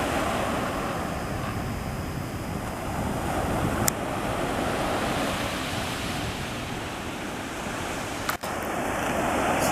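Ocean surf rolls onto a beach in a continuous broad wash, with steady wind buffeting the microphone and no voices.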